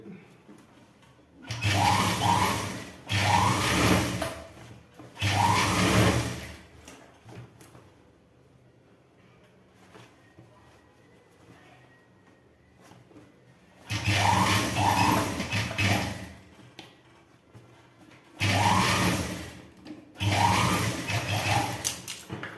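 A sewing machine runs in several bursts of a few seconds each while stitching a straight seam on trousers, its whirring motor loud and close, with quiet pauses between runs.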